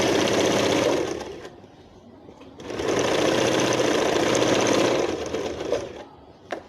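A sewing machine stitching a salwar runs fast and loud in two long bursts separated by a short slowdown, ending with a couple of quick mechanical clicks, with no talking.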